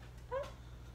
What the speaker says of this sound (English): That's the puppy.